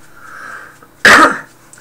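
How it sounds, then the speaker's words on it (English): A man's single sharp cough bursts out loud and close after a stretch of quiet hum, then fades quickly. "excuse my cough"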